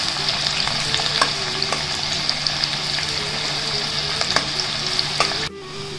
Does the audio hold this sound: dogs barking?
no